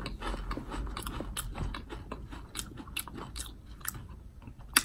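Loud, close crunching, biting and wet smacking while someone eats a Taco Bell cinnamon sugar dessert, with dense irregular bites throughout and no talking.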